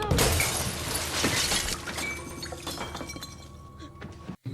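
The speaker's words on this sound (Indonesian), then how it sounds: "sebuah pendingin air di dalam ruangan itu pun pecah" A water cooler shatters inside a room in a loud burst of breaking glass, followed by scattered clinks and tinkling debris that fade over a few seconds.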